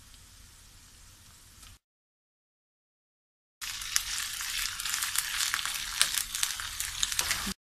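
Goat liver frying hard in a hot pan with garlic, a dense crackling sizzle that cuts out briefly, then returns louder and closer with sharp pops and spatters.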